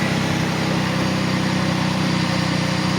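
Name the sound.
1990 Ford Taurus SHO engine idling after cold start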